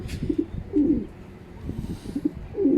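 Racing pigeons coo in short, soft repeated phrases, several low throaty calls spaced over a few seconds, close by against faint background noise.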